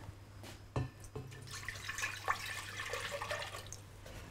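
Water is poured into a container to soak sun-dried tomatoes, giving a soft, splashing, trickling sound that starts with a couple of sharp drips and then settles into a steady pour.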